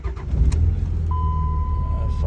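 The Cummins diesel engine of a 2004 Dodge Ram 2500 cranks and catches, settling into a low, throaty rumble, with a steady electronic chime ringing alongside and a voice talking briefly over it.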